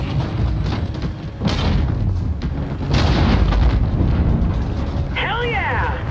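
In Call of Duty Infinite Warfare, rumbling weapons fire and booming explosions roll on continuously, with heavy low thuds building in the second half and a shouted voice over the din.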